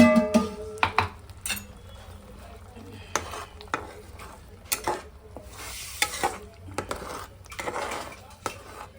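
Ground masala paste fries in oil for a village-style crab curry, with a close sizzle under repeated metallic clinks and scrapes of a spoon stirring against the pot in irregular bursts.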